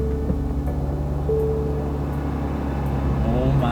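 A brand-new Nissan Z with only 9 miles on it starts for the first time, its engine catching and settling into a steady, loud rumble with a slight rise in revs near the end.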